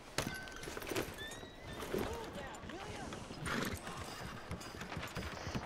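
Horse hooves clip-clop in Red Dead Redemption 2, a steady, fairly faint rhythm of hoofbeats mixed with a whinny and game sounds, while a person talks over it.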